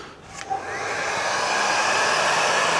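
A heat gun blows hot air into a motorbike part near a hose clamp and filter, a steady loud whooshing roar that starts after a brief click and holds constant throughout.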